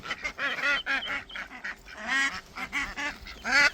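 Mother ducks with their ducklings call near a pond on a small farm, giving a rapid run of loud, nasal honking quacks that overlap and repeat close to the microphone.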